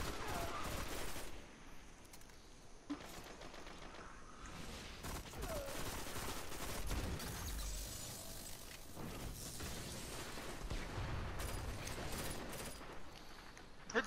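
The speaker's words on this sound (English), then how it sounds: "It means you're shooting at people" Scattered gunfire in the Destiny video game, with sharp shots and short bursts at a moderate distance amid a busy wash of battle effects and occasional quiet voices.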